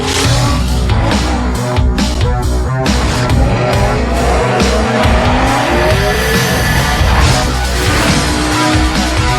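A Porsche 911 roars loudly through a TV ad, its engine revving hard while tires squeal and skid in long screeches over a constant, dense mechanical din.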